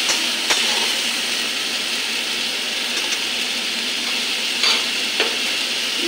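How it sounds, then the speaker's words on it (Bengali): Bengali fish kalia masala sizzles steadily in a pan on a gas stove while a spoon stirs it, giving a constant hiss broken by a few short scraping strokes. "ভালো করে কষে নিই"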